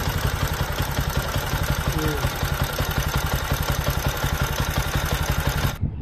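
Idling engine of a 2023 Bajaj Pulsar NS 125 motorcycle, a steady close, loud rhythmic putter running without a break until cutting off abruptly near the end.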